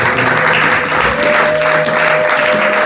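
A church congregation claps together in continuous, loud, dense applause during a Sunday service, with voices faintly mixed in.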